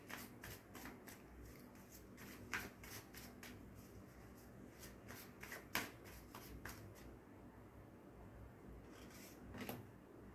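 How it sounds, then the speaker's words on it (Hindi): A deck of tarot cards is shuffled by hand close up, with soft repeated riffling and card slaps in uneven bursts, alone and fairly quiet. "एक कार्ड और लेते हैं इसी डेक से।"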